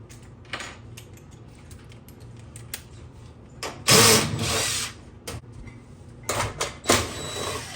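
A power tool takes quarter-inch screws out of the back panel of a Kenmore oven in a few short, loud whirring bursts, with quiet handling clatter between them and no talking.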